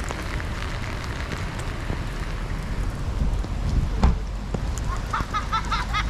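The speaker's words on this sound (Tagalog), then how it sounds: "Grabe ang ulan." Heavy rain pours steadily outdoors near a sea lion colony at Westport, New Zealand, a dense, close hiss with scattered louder drops and gusts, and faint voices underneath.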